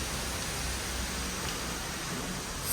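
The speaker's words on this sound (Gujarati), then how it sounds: "આજે સવારનો વરસાદ છે" Steady morning monsoon rain falls in a dense, even hiss that fills the space without a break, a constant wash of drops with no voices over it.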